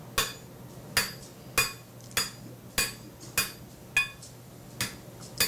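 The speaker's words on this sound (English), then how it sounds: "It's a rounding hammer I'm using," A rounding hammer strikes hot metal while a key fob is forged, nine evenly spaced, sharp ringing blows about every half second, close and clear with no voices.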